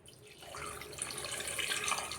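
Tap water pours steadily into a pot of beef tail and feet for balbacua in a pressure cooker, a close, continuous splashing fill that grows slightly fuller as it goes.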